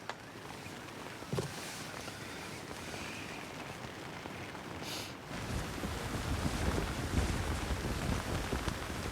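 Wind buffeting and rough waves during a stormy, rainy kayak expedition, a steady broadband rush that swells louder and denser in the second half, with occasional gusty thumps against the microphone.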